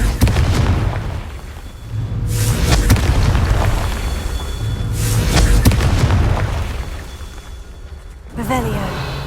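Confringo fire spells exploding in the Hogwarts Legacy video game, heavy booming blasts that roll and rumble one after another, loud and close, with a voice calling out between them.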